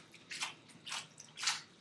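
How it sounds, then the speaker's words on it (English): Pasta tossed in a pan with butter, cheese and pasta water gives three wet, sticky squelching bursts at close range, with a faint slap between them. "It's a gross sound, but it is the sound of your pasta being finished."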